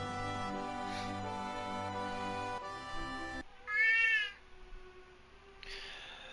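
A cat in Final Fantasy VII gives a short, high, rising meow over game background music, followed by a second fainter mew near the end.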